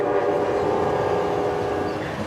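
A KRL commuter train runs on the rails, heard as a steady, loud, continuous rumble that fades slightly toward the end.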